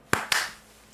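Two sharp, close hand claps in quick succession, imitating the Clapper sound-activated switch, followed by quiet.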